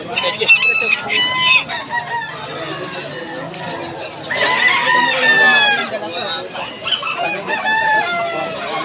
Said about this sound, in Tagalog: mga panabong ito guys, mga mamahaling mga manok